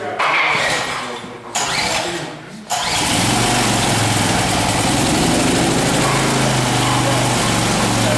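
A small engine on a 644 machine sputters in brief bursts, then starts on full choke and settles into a loud, steady, close idle that runs unbroken to the end.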